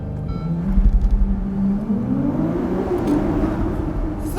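A supercar engine with a muffled, stock-sounding exhaust revs up from a low idle, its deep rumble rising in pitch over a few seconds and then holding steady, close and loud with no talking.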